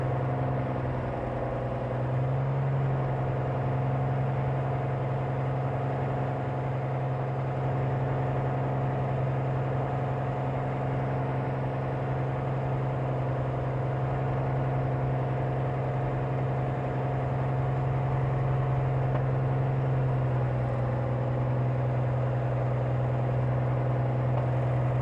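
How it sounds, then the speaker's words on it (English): Cirrus SR22 aircraft engine running rough with reported knocking, heard as a steady droning hum inside the cabin, continuous and fairly loud, with slight wavering in pitch and no speech. "See if you can hear this knocking in the audio."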